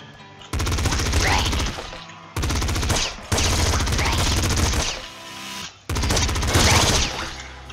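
A shotgun in the top-down shooter Nuclear Throne fires automatically in rapid, loud bursts, four long volleys of repeated blasts separated by short pauses.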